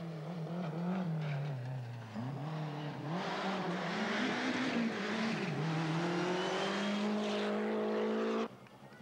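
A Lancia Delta Integrale rally car, geared too short for fast asphalt stages, races at the 1990 Sachs Winter Rallye: a loud, straining engine note rises and dips through gear changes, then climbs steadily before cutting off abruptly.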